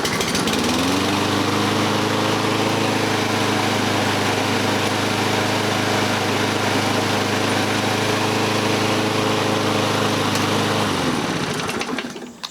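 A small Toro Recycler self-propelled lawn mower engine starts and runs steadily at high revs, loud and close, with a constant droning hum that cuts off at the end.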